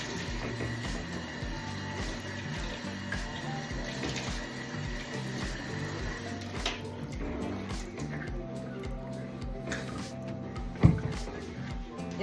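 Tap water runs steadily into a bathroom sink during a hair wash, a continuous close splashing stream with faint handling noises and one brief knock near the end.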